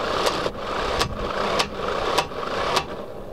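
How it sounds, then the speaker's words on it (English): A 12 volt impact wrench tightens a wheel stud up close, its motor whirring steadily under loud, regular hammering bursts about every half second. "To do up the wheel stud is just the reverse of undoing it. Change the direction of the impact wrench to R,"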